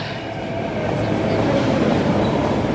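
A Mumbai Metro train runs with a steady, loud rumble and rail clatter that holds close and even for the whole stretch, with no voices over it.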